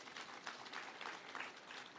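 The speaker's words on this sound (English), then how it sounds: "give them a round of applause" Applause from attendees honouring ambassadors and high commissioners at the official opening ceremony of Bunge Tower in Nairobi, faint, continuous clapping from a crowd, heard at a distance.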